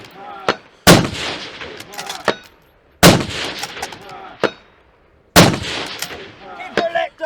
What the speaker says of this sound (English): sending 10 rounds at 350 metres to 2 small targets and didn't miss a shot